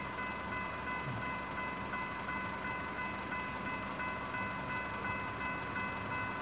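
A train rolls slowly past with its engine at the back end, giving a steady low rumble and faint tonal hum at moderate distance, with no voices.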